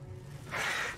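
A single crow caw in the video game Resident Evil Village, one short harsh call rising out of a low ambient rumble, brief and moderately loud.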